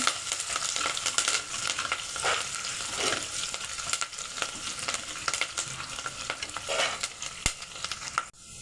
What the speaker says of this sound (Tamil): இப்போ வெங்காயம் நல்லா ஃப்ரை ஆயிடுச்சு